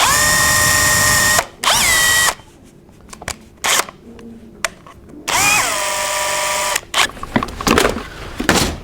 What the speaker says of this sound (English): I think I'll start with a small hole first and work my way up.